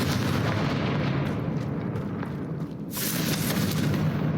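A fiery spell blast erupts in a fantasy action game, a loud dense booming roar that holds for several seconds, dips briefly, then surges again with a bright crackling burst.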